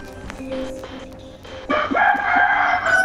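A rooster crows once, the call rising loud and clear after a second or so of quieter background noise, with no talk over it.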